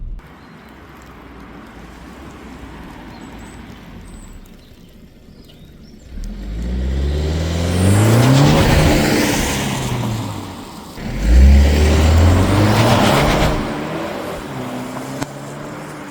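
BMW G31 estate on new wheels, heard from inside as it drives and accelerates twice, the engine note climbing through the gears over a low road rumble.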